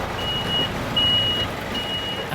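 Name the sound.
lorry carrying bison reversing with warning beeps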